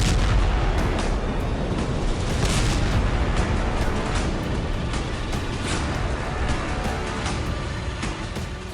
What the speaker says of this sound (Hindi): ड्रोन हमले से तेल डिपो के टैंकर में विस्फोट।